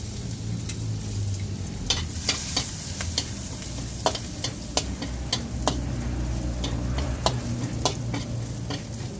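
Garlic frying in a little cooking oil for eggplant with oyster sauce, a continuous close sizzle with scattered sharp pops and crackles, no talking.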